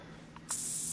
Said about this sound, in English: Oh, I gotta spray some